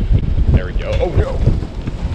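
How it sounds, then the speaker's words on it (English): Strong wind buffets the microphone outdoors by the water, a steady low rumble throughout while a person speaks briefly. "See, told you guys the wind is strong."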